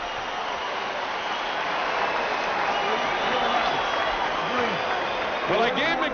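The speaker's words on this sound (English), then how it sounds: "The crowd loves it." Boxing arena crowd at the Mike Tyson vs. Kevin McBride fight, a broad continuous roar of cheering and applause swelling toward the end, with a commentator talking over it.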